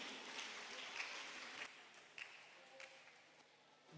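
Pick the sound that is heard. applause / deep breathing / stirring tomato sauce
applause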